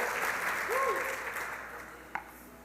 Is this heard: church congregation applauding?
yes